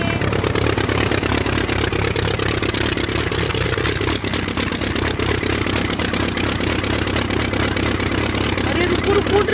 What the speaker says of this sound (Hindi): ड्राइवर तो अब जाएंगे अपने ट्रैक्टर की ट्रॉली लाने